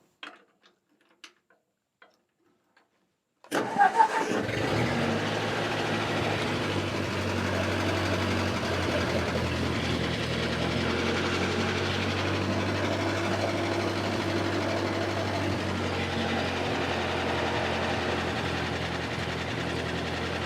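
An old tractor engine cranks and catches after a few faint clicks, then settles into a steady, rhythmic idle that chugs evenly and fairly close for the rest of the time.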